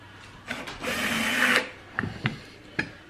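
Power tool driving a screw, a short whirring burst that rises in pitch, then a few quick clicks and ratcheting knocks, close and fairly quiet.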